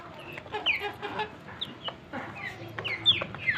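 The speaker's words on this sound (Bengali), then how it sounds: "আর বড় দুইটা মুরগি চলে আসছে এখানে।" Pet hens cluck around their feeding spot, a steady run of close, moderately loud clucks and short squawks over a busy outdoor background.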